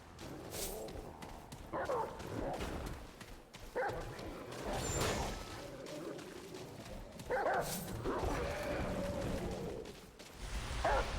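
A dog in the video game Remnant: From the Ashes barking and yipping in a few short bursts, fairly faint and mixed with game sounds and some talk.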